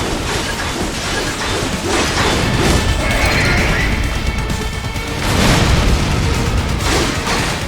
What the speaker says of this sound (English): Catch that missile before it blows!